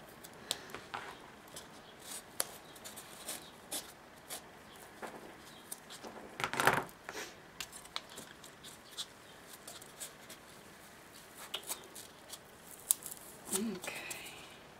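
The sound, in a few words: scissors cutting paper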